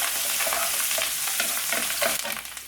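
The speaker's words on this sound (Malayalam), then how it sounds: "ഇതിലേക്ക് ഇനി ഒരു 2-3 തണ്ട് കറിവേപ്പില ഇട്ട് കൊടുക്കാം. ഒരു 4 പച്ചമുളക് ഒന്ന് ഇളക്കി കൊടുക്കാം." Curry leaves and green chillies hit hot frying oil and are stirred, giving a dense, loud, close crackling sizzle throughout with a few scraping strokes, no voices.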